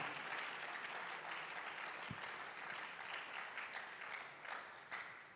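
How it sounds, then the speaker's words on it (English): A crowd applauds at the official launch of the 27th Ghana Universities Sports Association Games at KNUST, a dense wash of clapping at a moderate distance that carries on for several seconds with no speech. "I would also like us to give a wonderful applause to the Sports Directorate for the work they also do towards the GUSA Games as well."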